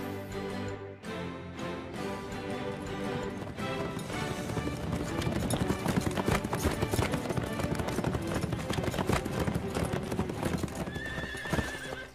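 Horses walking on a trail in the animated series Horseland, with close hoof clip-clops and a loud neigh over a full background music score.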